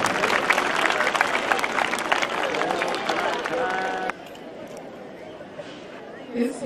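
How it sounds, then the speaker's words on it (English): Applause from a crowd at a school annual day and sports day event, a dense patter of clapping with murmuring voices, fairly distant, then it drops away into quieter room noise. "A big and warm round of applause, ladies and gentlemen"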